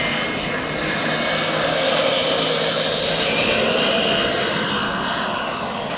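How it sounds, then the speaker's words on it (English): A 1:4 scale RC Pilatus PC-21 model with a Kingtech K60 turboprop engine and a five-blade propeller drones and whines at a steady, loud pitch on the runway at a model jet fair, with no talk. "Powered by a Kingtech K60 turboprop engine."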